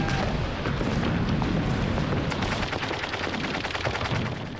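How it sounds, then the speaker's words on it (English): German machine gun fire from World War II footage of the D-Day landings, a dense, loud, continuous rattle of bursts with booming blasts mixed in and no talk. "As the US 1st Infantry Division waded ashore, they were mown down by German machine guns."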